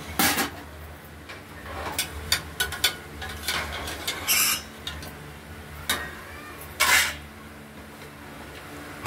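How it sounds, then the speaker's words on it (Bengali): The lid goes onto a pressure cooker of moong dal with bottle gourd, bringing a series of sharp metallic clicks and clanks, several spaced bursts against a quiet kitchen background without talk. "প্রেসারের ঢাকনা দিয়ে দিলাম"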